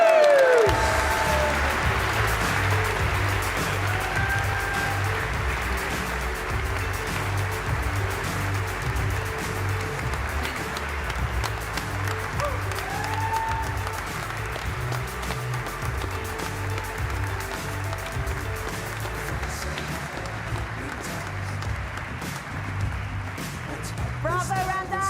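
Sustained crowd applause for an award winner at a live cooking competition grand final, steady and dense for the whole stretch, with a few brief voices and cheers rising above it.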